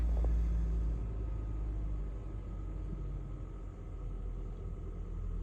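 A Hyundai Creta fitted with a CNG kit and a weak battery idles while warming up, a steady low engine rumble heard close with no talk.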